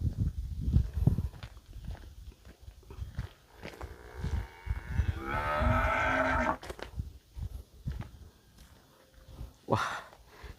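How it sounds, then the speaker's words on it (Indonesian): A cow moos in a rural outdoor setting with strong wind: one long, loud, close low call in the middle, with shorter lowing around it, hoof-like thumps and gusty rumble. "sapi manggil-manggil saya"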